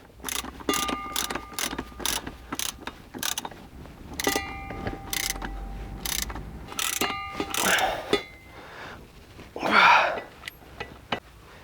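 A 21 mm ring spanner ratchets and clicks while tightening the driveshaft bolts on a car, in short uneven bursts of metallic clicking, close up, with a brief voice near the end.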